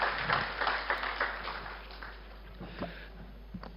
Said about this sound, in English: So may I request you to please welcome him with a warm round of applause.